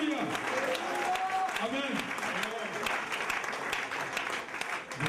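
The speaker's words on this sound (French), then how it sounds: "Thank you for clapping for me." A church congregation at a bilingual French and English service claps in a dense, sustained round of applause while a preacher's voice speaks over it.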